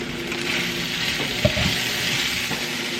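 Food sizzles and fries steadily in a pan while being stirred, with soft scraping and a few light knocks over the constant crackle.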